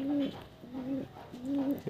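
Native pigeons cooing in a loft, three clear, evenly spaced low coos close by, with a quiet background between them.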